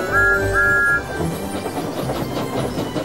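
Thomas the steam engine gives a two-note whistle, then rolls along the track with a soft rhythmic chuffing and rumble, close and loud.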